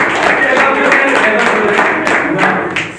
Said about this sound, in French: je voudrais, en fait, qu'on l'applaudisse, mais de tout cœur